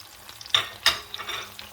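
Garlic, onion, pepper and tomatoes fry in a pan, a soft crackling sizzle with a couple of sharper spits and light stirring scrapes, faint and close, no talking.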